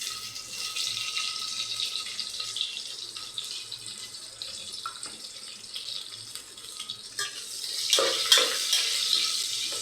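Chopped onions with cinnamon and star anise frying in oil for tomato rice, a steady close sizzle that swells near the end as the pan is stirred.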